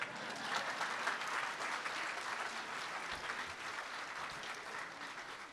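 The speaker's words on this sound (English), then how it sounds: "And that deserves a round of applause." Graduation ceremony audience applauding steadily at a commencement, a dense wash of clapping from many hands that holds evenly throughout without voices standing out.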